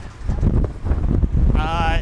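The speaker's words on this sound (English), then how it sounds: "it's windy again" Strong gusty wind buffeting the microphone in loud low rumbles, with a brief tonal whine near the end.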